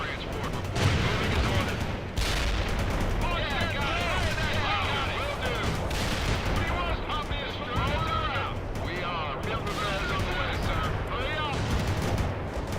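A battle in the 2007 real-time strategy game World in Conflict, with a missile launch among dense, continuous gunfire, rapid bursts and thudding blasts that fill the whole stretch, while voices talk over the combat.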